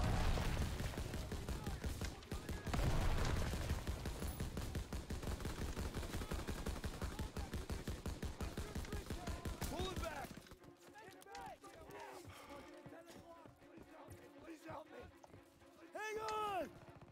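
Rapid gunfire in Call of Duty WW2, a long stretch of fast, steady automatic bursts, then scattered shots and in-game shouting voices over a quieter battlefield backdrop.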